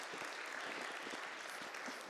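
A church congregation applauds a guest speaker, giving an even wash of clapping at a moderate distance that carries on without a break.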